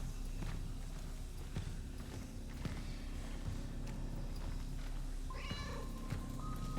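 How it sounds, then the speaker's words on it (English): A cat meows in the video game Cronos: The New Dawn, a short clear meow near the end over a noisy, low game ambience with scattered footstep-like thumps. "I heard the cat. Did you guys hear the cat?"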